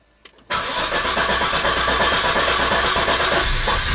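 A Volvo XC90 with a long-crank and stall fault cranks over, a few faint clicks and then a loud, close, rapidly pulsing starter chug that continues steadily without catching.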